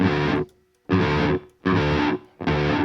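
Distorted bass guitar played in four heavy sustained bursts with short gaps, carrying a very tight, low-level reverb from a bus in Logic Pro X, loud and alone without voices.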